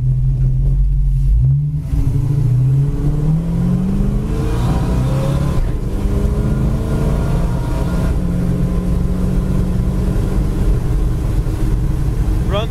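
A 1935 Ford steel-body street rod with disc brakes cruises down the road at about 70 mph. Its engine drones loudly and continuously from inside the car, rising and falling in pitch as it shifts and accelerates.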